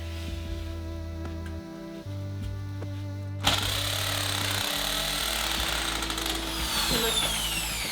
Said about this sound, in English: I've never used this hammer drill, so I hope I can do it.